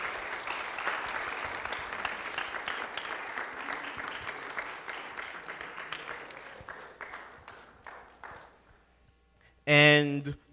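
A school audience applauds and cheers for graduating seniors, steady dense clapping that fades out, followed by a brief loud burst of music or noise at the end.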